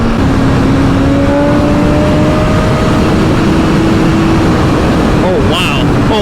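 A stock 2024 BMW S1000RR 1000cc sport bike accelerating hard, its engine pitch climbing as a steady loud roar under heavy wind rush throughout, with a person talking over it.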